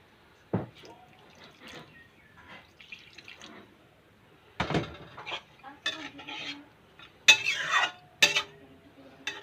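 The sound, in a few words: a little water being added to the cooking pot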